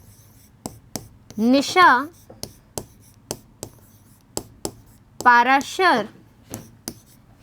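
Chalk or marker tapping and scratching on a classroom board in short, sharp, evenly spaced strokes, close and clear, between two brief bursts of a teacher's speech.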